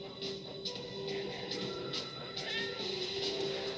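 A cat meows repeatedly in the Tokyo Dark video game, several short cries over a steady background music bed with no talking.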